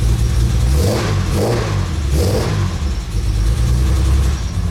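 A car engine on choke revs loudly and repeatedly, rising in surges over a rough, throaty idle close by.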